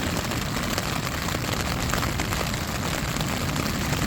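Rain falls steadily outdoors ahead of a storm, a dense, even patter of drops on surfaces, close and continuous with no voices.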